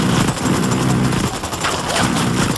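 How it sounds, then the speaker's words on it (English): Sustained automatic gunfire in the video game Ghost Recon Wildlands, a dense rapid rattle of shots filling the whole moment, loud and close. "I'm opening fire on these fuckers."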